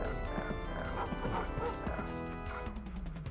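A dog barks in the old first-person shooter Rise of the Triad, a quick run of sharp yips and barks over game music and effects, fairly faint.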